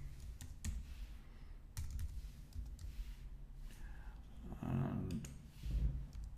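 Quiet, close keystrokes tap in quick irregular bursts on a computer keyboard while a username and password are entered, over a low background hum with no talking.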